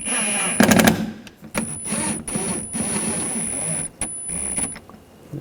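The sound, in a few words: tightening fasteners on Audi A4 rear window regulator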